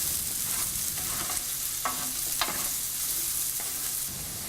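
Sweet potatoes fry in a covered skillet with a continuous close hiss, broken by a few sharp scraping knocks as they are stirred.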